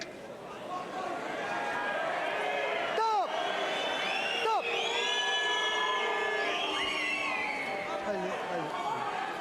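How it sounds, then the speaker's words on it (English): A boxing arena crowd in Germany roars and cheers for the referee, a broad sustained swell of voices and whistles filling the hall, with a commentator talking over the noise. "it's not surprising the crowd now give this referee a cheer for doing that"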